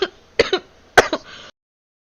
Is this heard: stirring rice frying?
no